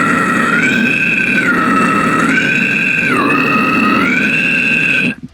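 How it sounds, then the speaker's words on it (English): A toilet bowl scream, a distorted vocal technique, alternating U and E vowel shapes in a continuous loud, gurgling tone that shifts pitch up and down about three times before cutting off. "the distortion placement for toilet bowls are kind of a U and E sound"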